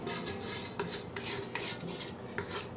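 A utensil scrapes thawed fruit juices from a metal strainer into a pot for pie filling, making repeated close, gritty scraping strokes with no talk.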